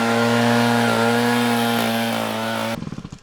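A big-displacement chainsaw roars loudly at steady high revs for nearly three seconds, then cuts off abruptly into a rapid series of fading sputters and knocks as the engine dies.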